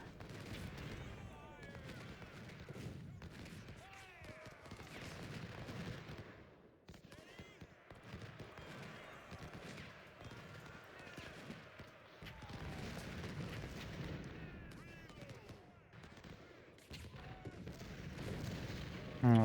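Sustained cannon and artillery fire with musket volleys in the Civil War strategy game Ultimate General: Civil War, a steady barrage of overlapping booms and rattling shots at moderate loudness, with occasional talk over the battle.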